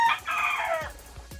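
A rooster crows once, loud and close, a single drawn-out call that fades quickly into a quiet yard with faint low rustling.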